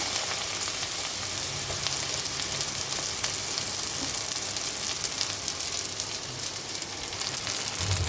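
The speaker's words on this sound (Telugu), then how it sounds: "ఈ నూనెలో గోంగూర వేసేసి" Chopped gongura (sorrel) leaves fry in hot oil, giving a steady, close hiss and crackle that stays even throughout without any talking.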